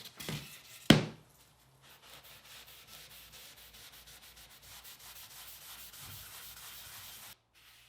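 Microfiber pad brushing finish onto a wooden photo frame: a soft knock, then a long run of quiet, rhythmic rubbing strokes close by, ending abruptly.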